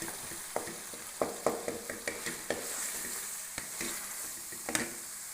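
Beef and masala are stir-fried in a pan for a karela dish, with a soft sizzle beneath repeated sharp spatula scrapes and taps at an uneven rhythm.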